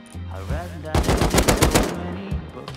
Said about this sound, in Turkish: Minigun da bu.